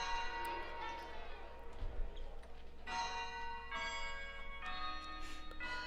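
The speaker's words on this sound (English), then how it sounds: "At that moment, the bell rang." A school bell ringing in a video game, bright repeated metallic tones in bursts over a faint background hum, with no talk.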